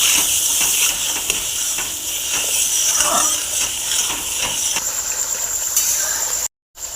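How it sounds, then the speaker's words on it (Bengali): Chickpeas with salt, turmeric and sugar sauté in oil in a pan for chole, giving a continuous close hiss and sizzle with faint stirring scrapes, cut briefly near the end. "এবার আমি ভালো করে কষিয়ে নেব।"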